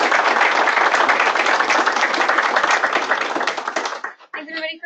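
An audience applauds a presenter at a section meeting with steady, dense clapping that holds at full strength for about four seconds before fading out as a voice begins speaking.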